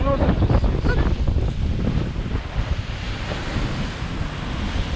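Ocean waves breaking on a beach in Morocco, a steady loud roar of surf with wind buffeting the microphone throughout.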